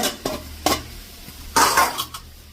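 Grated coconut being stirred into a dish in a pan, a few separate scraping strokes of a utensil against the pan with soft sizzling in the pauses, one longer stir near the end.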